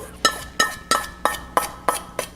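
A spoon mixes wet, rinsed quinoa in a metal cooking pot, making seven evenly spaced scraping clinks against the pot in a steady rhythm, close and distinct, with no talking.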